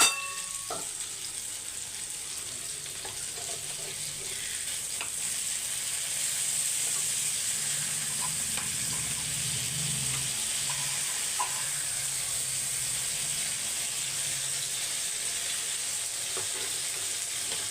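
Fish frying on a dosa tawa over low heat for a village-style fish fry, a steady close sizzle and hiss that runs unbroken throughout, with a few faint clicks.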